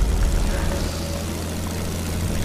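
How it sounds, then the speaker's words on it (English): Low-flying planes in the Fortnite video game make a loud, steady propeller-and-engine drone that is strongest at the start, then settles to a constant hum. "Jeez, these planes are low."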